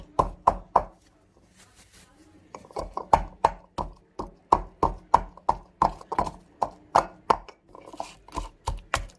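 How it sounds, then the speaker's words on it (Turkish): Garlic cloves pounded with salt in a mortar, a steady series of sharp, close knocks in an even rhythm, briefly softer near the start before regular strong strikes continue throughout. "Bu 7 diş sarımsağımı ilk önce tuzla beraber havanda e, döveceğim."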